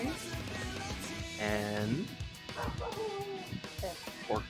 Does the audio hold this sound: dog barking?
yes